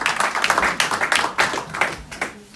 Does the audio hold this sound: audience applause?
yes